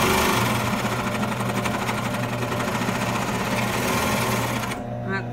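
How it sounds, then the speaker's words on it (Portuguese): A sewing machine stitches a seam on men's briefs, a loud, steady, close mechanical whirring that runs continuously and then stops near the end. "Então eu vou dar uma outra passadinha para prender direito."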